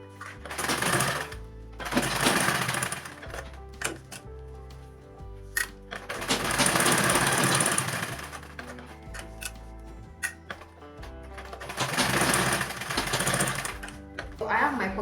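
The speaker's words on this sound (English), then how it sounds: "I'm just going to top stitch all around from the sides, the bottom and the other side as well" A sewing machine top stitches around the sides and bottom of a fabric shoulder bag with a bow, several rapid runs of close mechanical whirring separated by pauses, with a voice speaking between them.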